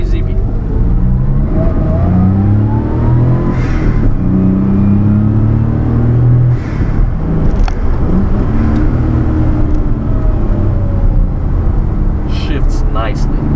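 A 1991 Daihatsu Atrai Turbo intercooler kei minivan accelerates from inside the cabin with a window cracked. Its small engine climbs through rising revs and gear changes in a steady, busy drone, with talk over it.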